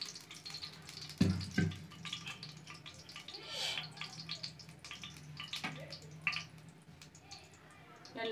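Cooking oil poured onto a hot dosa griddle while preparing fried fish, giving a soft sizzling, splashing hiss that comes in bursts over about eight seconds, with faint background sounds and no clear talk.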